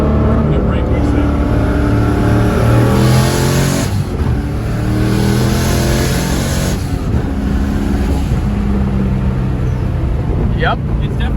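Toyota Supra engine with a big turbo revving hard and holding high rpm, a loud, continuous engine roar with rising and falling pitch sweeps, close by, with people talking over it throughout.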